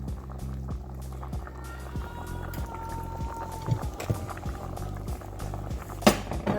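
Goat pepper soup bubbles steadily in a pot, a soft continuous simmer of popping bubbles with an occasional light clink nearby.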